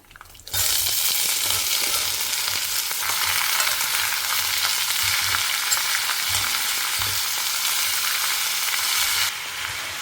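Chayote pieces tipped into oil with urad dal, chana dal and chilli tempering, a loud steady sizzle starting abruptly after a brief quiet moment, with low stirring knocks underneath, then easing slightly near the end.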